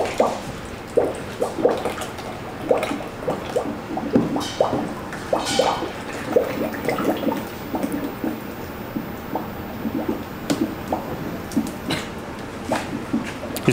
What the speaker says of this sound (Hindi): अभी हम ये मटेरियल इसके अंदर दोनों में 2-2 लीटर बाउल में डालेंगे इसका मटेरियल।